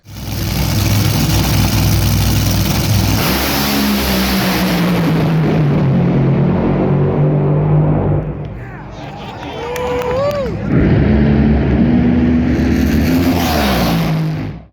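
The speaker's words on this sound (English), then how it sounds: "I'm just watching these top fuel dragsters." Top fuel dragsters roar down the strip in a loud, sustained engine blast that dips briefly before a second pass thunders past, with crowd noise beneath.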